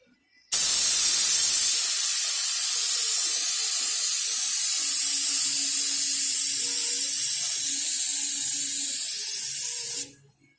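Water sprays from a hose under a car bumper, a loud, steady hiss that starts abruptly, runs for about ten seconds and then cuts off, with faint low background sounds beneath.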